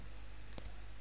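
A single crisp mouse click, short and isolated over a faint steady background hum, with no one talking.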